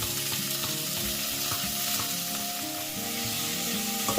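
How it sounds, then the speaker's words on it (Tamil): Tomatoes sautéing in a pan for a red lentil kuzhambu, a steady close sizzle and crackle of frying with occasional stirring scrapes, continuous and without talk. "தக்காளியை நல்லா வதக்கி விட்டுட்டு அது ஸ்மாஷ் ஆகிறதுக்கு"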